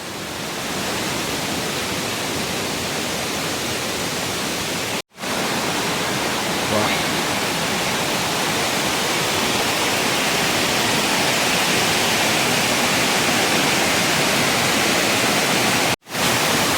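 The Mettuguda waterfall at Seethampeta, swollen with rain, roars in a loud, steady wash of rushing water, unbroken except for two brief cuts.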